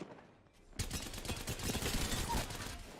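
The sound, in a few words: gunfire from Apex Legends video game, shooting a Mirage decoy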